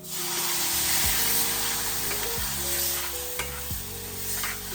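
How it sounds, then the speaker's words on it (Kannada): Dry fish gravy sizzling and frying in a pan with tamarind juice just added, stirred steadily with a spoon scraping the pan over a constant loud hiss. "ಈಗ ನಾನು ಇದಕ್ಕೆ ಹುಣಸೆ ರಸವನ್ನು ಹಾಕ್ತಾ ಇದ್ದೀನಿ."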